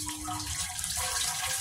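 Water flows steadily like a barrel filling, a continuous close rushing with faint tonal ringing layered over it and no voices.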